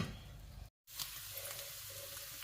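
Fatty pork sizzling in hot oil in a wok for northern Thai larb, a steady close crackle and hiss with a brief cut partway through.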